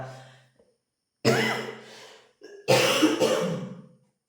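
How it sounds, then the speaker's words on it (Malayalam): A few throat-clearing coughs from an itchy throat, close and fairly loud, in two bursts separated by short pauses. "എനിക്ക് ആ ത്രോട്ട് ചക്രം ഒന്നും ഇങ്ങനെ ഇച്ചിങ് ആകുന്നുണ്ട് അതുകൊണ്ടാണ് ചുമയ്ക്കുന്നത്"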